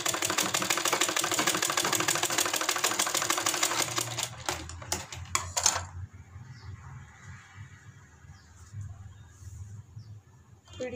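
Sewing machine stitching kurti fabric: a dense, rapid mechanical whir runs loud for about five seconds, then breaks into a few short bursts before stopping, leaving quiet room tone.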